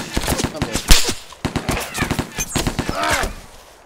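Bursts of gunfire ring out in the Arma 2 DayZ video game, loud rapid shots in quick clusters, with a person speaking in between the volleys.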